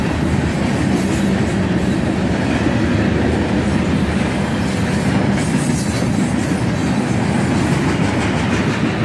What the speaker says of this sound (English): southbound manifest train with an ES44DC leading and an ES40DC trailing